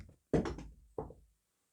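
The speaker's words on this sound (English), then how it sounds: "I knocked a bottle of foundation on the floor." A bottle of foundation with its lid on knocks onto the floor: a sharp clattering thud with a quick rattle, followed by a second smaller knock as it settles, near and alone.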